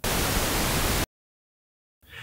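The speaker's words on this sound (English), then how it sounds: "We'll hear pink noise played out of the mouth," Pink noise played out of a measurement rig's mouth simulator for a headphone microphone test, a dense loud hiss lasting about a second, then abrupt silence before a softer noise burst returns at the end.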